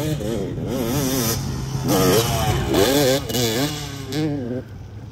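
A 2004 Kawasaki KX250 two-stroke dirt bike rides at a dirt park, its engine revving and wavering up and down in pitch, loud and close throughout, with a voice talking over it.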